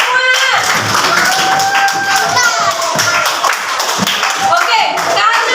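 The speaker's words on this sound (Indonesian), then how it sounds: "Tepuk tangan untuk kita semua." Second-grade schoolchildren clapping in a classroom, brisk overlapping handclaps that continue throughout, with children's voices and chatter mixed in.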